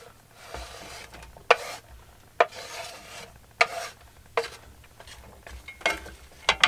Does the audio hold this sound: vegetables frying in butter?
yes